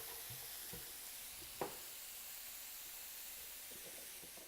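Meat browning in a pan gives a steady, quiet sizzle and hiss, with a few faint stirring knocks and one brief clack partway through.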